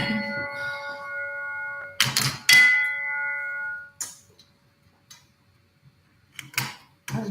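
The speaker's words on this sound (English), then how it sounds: "In a late start setting up these chimes today." Chimes ringing as they are set up, with clear sustained metallic tones followed by clattering strikes, then quieter pauses and a few later jingles.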